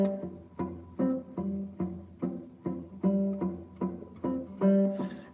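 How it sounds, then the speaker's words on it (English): Strings struck in an even, steady series of notes at equal level, each tone ringing briefly and blending with the others, played alone at moderate volume during a technique class. "It might just sound quiet and blended in with these other strings like this."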